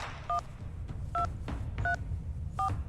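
Telephone dialing tones in the video game Reverse: 1999: four separate electronic keypad beeps at a steady, unhurried pace, clear and close over a low background hum.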